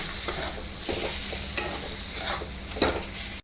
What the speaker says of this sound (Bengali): লঙ্কা গুঁড়ো দেবো 1 চামচ, আর ধনিয়া গুঁড়ো দেবো 1 চামচ দিয়ে পেঁয়াজের সঙ্গে ভালো করে কষবো।